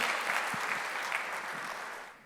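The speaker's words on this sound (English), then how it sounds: "A round of applause for Daji." Conference audience breaks into warm, continuous applause welcoming a speaker to the stage, steady and fairly quiet, tapering off slightly at the close.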